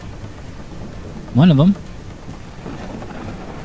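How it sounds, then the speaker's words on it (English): Steady rain and a low thunderstorm rumble in the ranch simulation game Ranch Sim, continuous throughout, with someone briefly speaking over it. "A lightning storm of all things."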